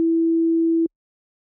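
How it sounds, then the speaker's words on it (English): A pure sine wave synth tone sampled in Ableton Simpler, a single steady low note held for under a second before cutting off cleanly into silence. "Sounds like a sine wave."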